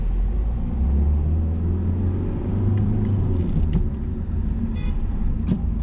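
Engine rumble of a car stopped in traffic during a driving lesson, steady and close, with a couple of short high horn-like toots from farther away near the end; no talking.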